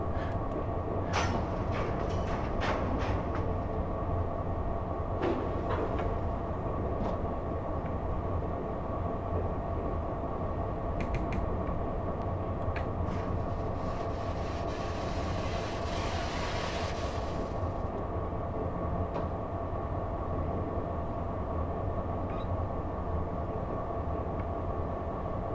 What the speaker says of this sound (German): Mal langsam hier rein in den Bahnhof von Hergatz.